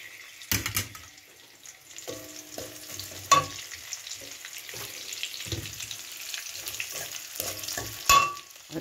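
Dried chilies and five-spice hitting hot oil in a pan, a soft sizzle and crackle broken by scraping stirring strokes and occasional sharper clinks of the utensil against the pan.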